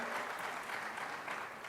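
An audience at a publishing studies program anniversary launch applauds steadily at moderate volume, a dense wash of clapping that fades slightly near the end.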